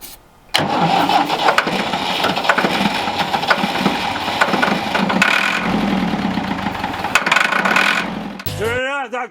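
An old Ford 5000 tractor, restored after sitting for 15 years, cranks and catches, then its engine runs loud and rough with revving surges and clatter before cutting off near the end.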